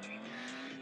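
A car driving in the pixel-art action game Gangster Pixel, a steady engine drone with tire noise running continuously through the short moment, loud and close.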